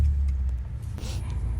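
A lowered BMW E46 pulls away, its engine a steady low rumble with a brief rush of road or tyre noise partway through.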